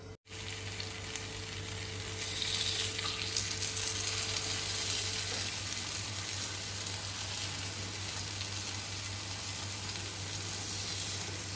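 Carrot egg balls frying under a lid in a covered pan, a steady muffled sizzle that rises after a brief clunk at the start and then holds evenly, close and alone without talk.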